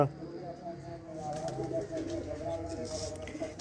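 Breeder pigeons on a rooftop give low, rolling coos and rustling wing sounds, fairly faint and close, while someone talks over them.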